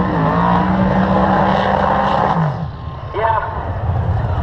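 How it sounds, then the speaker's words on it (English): Twin-turbo Pontiac drag racing car at a drag strip roaring loudly, its engine note dropping after a couple of seconds, with crowd noise and a brief voice at the end. "just listen to the twin-turbo power about to ooze out of this Pontiac"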